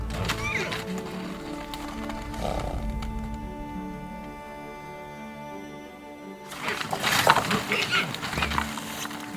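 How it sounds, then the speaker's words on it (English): Yakutian horses whinny in an icy village landscape, with a loud burst of neighing and movement near the end after a steadier stretch of low ambient sound. "Yakutian horses are also neighbors in this icy land."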